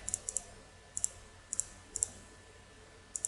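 Sharp, close computer mouse clicks while working in AutoCAD, coming mostly in quick pairs at irregular intervals over a faint, quiet background hum.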